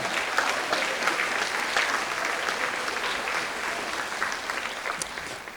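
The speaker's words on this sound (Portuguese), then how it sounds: "pode aplaudir o Senhor" A church congregation applauds during a sermon, steady continuous clapping from a crowd at moderate volume throughout, with faint voices mixed in.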